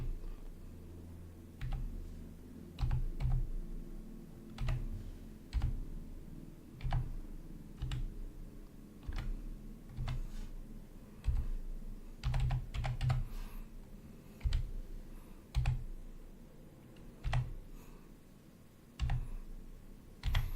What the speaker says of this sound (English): I'm going to type very slowly to make sure I get it right.